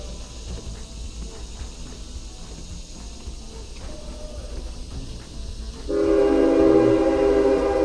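A low train rumble carries on for a while in the woods, then a loud, sustained train horn blares in over it.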